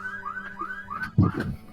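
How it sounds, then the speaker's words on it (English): Car alarm set off outside, a repeating warbling electronic tone cycling steadily at moderate distance, with a louder thud of nearby movement near the end. "And somebody set off an alarm."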